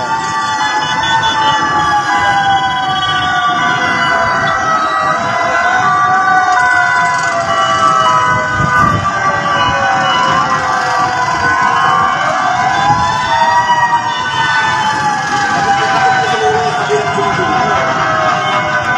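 Fire truck sirens wail during a fire in Ilaya, Divisoria, Tondo, Manila, rising and falling loudly and continuously over street noise, with voices talking underneath.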